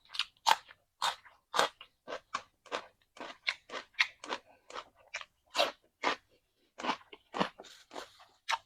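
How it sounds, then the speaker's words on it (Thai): Fried sticky rice eaten up close, loud crisp crunching bites repeating in a steady rhythm with short pauses, no talking. "กินข้าวเหนียวทอดๆเนาะแซ่บครับผม"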